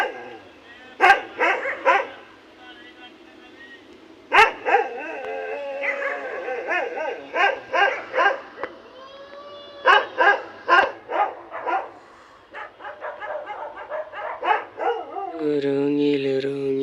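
A dog barks repeatedly at night around one in the morning, in loud clustered bursts with some drawn-out, howl-like yelps, and a brief tonal hum near the end.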